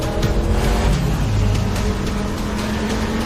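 Armored truck speeding away during a car chase, a loud close engine roar with a rising and falling pitch over rushing road noise, no talking.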